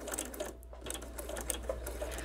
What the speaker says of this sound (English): I'm going to lower my needle and do a straight stitch down